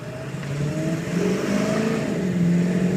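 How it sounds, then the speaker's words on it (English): A 2002 Ford F250 Lariat diesel truck accelerates hard from a stop on a small road, its engine note rising steadily and loud throughout, with no voices. "Boy, tires broke loose."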